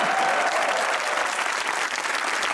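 Audience applause for a guest, dense steady clapping from a crowd, loud and sustained with no break.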